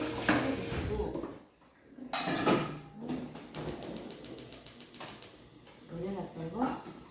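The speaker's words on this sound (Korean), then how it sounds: "냄비는 거 깨끗하게 씻어주시고" A pot being scrubbed and rinsed while making potato cream soup for a Western cooking certification exam, with clattering metal and scraping knocks under ongoing talk and a run of rapid rattling taps in the middle.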